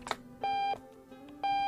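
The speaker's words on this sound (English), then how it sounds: "alarm clock." An alarm clock beeps in the video game Octodad: Dadliest Catch, with two evenly spaced electronic beeps, each held for about a third of a second, loud and close over a faint steady hum.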